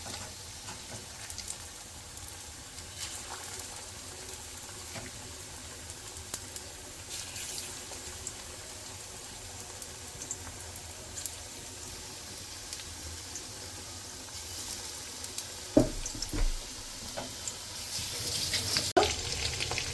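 Steady sizzling and crackling of coated boneless chicken pieces frying in hot oil for chilli chicken, continuous and close, with a few sharper pops near the end.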